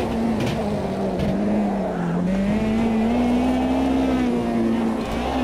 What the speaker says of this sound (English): the SR3 is just such a beautiful car to drive